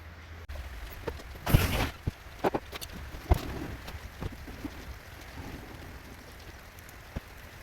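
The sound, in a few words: power washing a Mk2 Golf engine bay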